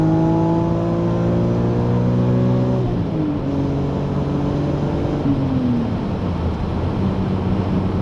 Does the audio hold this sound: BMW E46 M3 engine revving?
yes